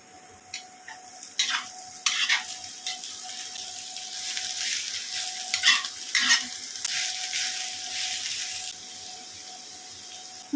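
Beans and carrots hitting hot oil with fried onion, ginger, garlic and green chilli for fried rice, a loud close sizzle swelling up as the vegetables go in, with repeated scraping stirs and no talk.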